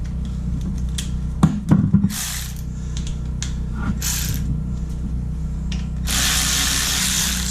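Caliper bolts on a 2017 Victory Cross Country motorcycle are cracked loose with an 8 mm Allen wrench: a few sharp metallic clicks and clunks, then bursts of hissy noise, close by.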